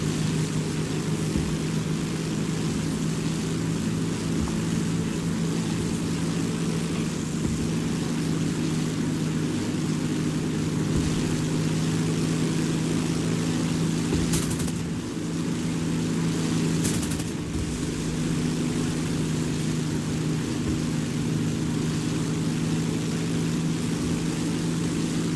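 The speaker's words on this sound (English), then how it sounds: "You want to keep this plane going straight as much as you can." Propeller engine of an S.O. 8000 Narval in flight in a combat flight game, a loud continuous droning roar with steady low hum, briefly dipping and swelling twice, no talking.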